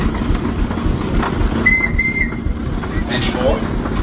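A steam engine whistle sounds at an Illinois steam power show, a short high-pitched blast of around a second standing out over a steady low rumble of machinery and crowd noise.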